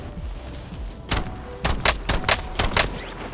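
Video game gunfire while shooting an enemy: several loud, rapid bursts of shots with short gaps, close and dominant over a rumbling background.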